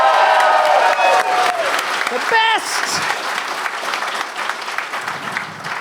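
A live audience at Gen Con, at a Glass Cannon Live tabletop show in Indianapolis, bursts into loud cheering and applause that fades over a few seconds, with shouts from the crowd and a voice calling out over it.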